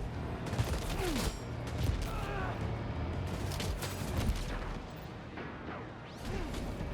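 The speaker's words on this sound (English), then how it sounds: "Who else is shooting at me?" Gunfire in the video game Death Stranding 2, a dense, chaotic fusillade of repeated shots and impacts with mechanical clatter, sustained over several seconds at moderate level, with a voice speaking briefly over it.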